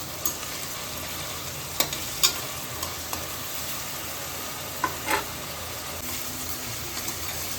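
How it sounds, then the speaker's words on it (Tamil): Onions sauté in a pan for a crab masala, a steady low sizzle with a few sharp clicks and stirring knocks of the spoon against the pan, close by and fairly quiet. "வெங்காயம் ஒரு பக்கம் வதங்கட்டும்"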